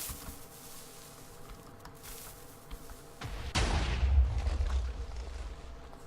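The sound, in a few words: cannon firing from a warship in a video game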